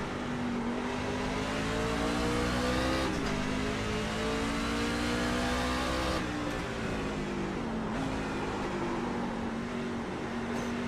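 A race car in the iRacing game, from an eNASCAR Coca-Cola Series round at Richmond Raceway, roars steadily up close, its engine pitch dropping in several distinct steps as it downshifts and revs between gear changes.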